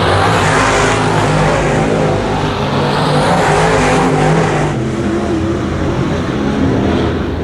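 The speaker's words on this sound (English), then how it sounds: "gsby, looking to pick up, which is shocking, his first heat race win of the season here at the dirt track at Genesee" Late model race cars on the dirt track at Genesee roar continuously in a loud, dense pack, engines droning and surging together throughout a heat race at close range.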